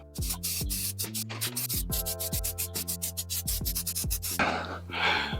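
Brisk back-and-forth scrubbing of a boot liner part from a 1992 Subaru, a fast, steady rhythmic rubbing close to the microphone, ending in a softer, hissing wipe.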